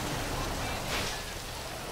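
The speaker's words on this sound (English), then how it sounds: "And it's raining." Steady rain in Grand Theft Auto 5 hisses in a dense, even wash of noise, constant throughout with no breaks.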